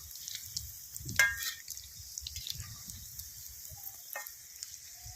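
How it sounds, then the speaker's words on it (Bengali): Potato snack frying in oil over medium heat, a steady soft sizzle and bubbling with an occasional louder spatter and a brief clink of utensils. "খুব ভালো করে ভেজে নেব।"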